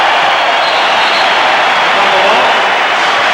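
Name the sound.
crowd giving the Bulls a standing ovation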